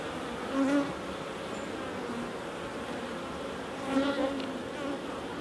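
Honey bees buzz during a beehive inspection, a soft, steady hum of many insects close by, with a few individual bees droning louder as they pass near.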